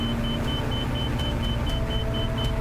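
Steady engine drone of a video game aircraft held at full throttle while flying into a tornado, a continuous loud rumble with a constant high whine, unbroken and alone.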